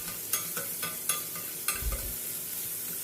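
Chopped onion sautéing in sesame oil with a cinnamon stick and bay leaf, a soft steady sizzle punctuated by several sharp spoon scrapes and stirring clatters against the pan.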